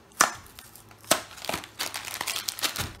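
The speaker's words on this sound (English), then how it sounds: "what I'm going to do is cut up a few raisins" Dark raisins being cut up with a knife for mead, giving a handful of crisp, irregular chopping and crinkling snaps, close and fairly quiet, with no talking.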